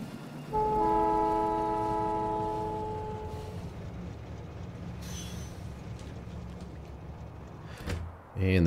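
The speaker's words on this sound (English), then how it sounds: "But for now, let's ride the train back." A train in the Factorio video game sounds a loud sustained horn chord at the start, then rolls on with a steady rumble of wheels and rail noise before a brief clunk near the end.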